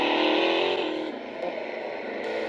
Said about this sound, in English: That McLaren is very loud